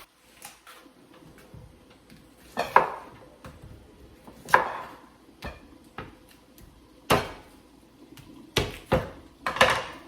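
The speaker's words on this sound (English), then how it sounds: "For my red potatoes for the seafood boil, I'm just cutting them in like 4 pieces." A knife chops washed red potatoes into quarters on a board, with sharp, separate knocks spaced a few seconds apart, moderately loud against a quiet kitchen background.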